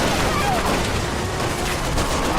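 Hydra shotgun fire in Resident Evil comes as a dense, loud stream of blasts and booms that merge into a continuous roar, with a voice faintly mixed underneath.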